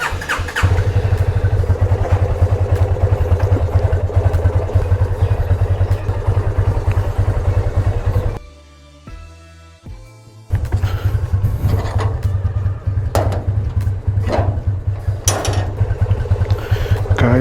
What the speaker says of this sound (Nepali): बाइक स्टार्ट गरेर राख्ने पर्यो पहिला